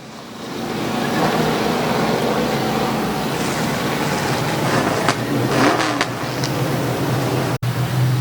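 Race cars at a speedway under caution, a steady engine drone with rising revs as cars pass, loud and continuous, with a brief dropout near the end.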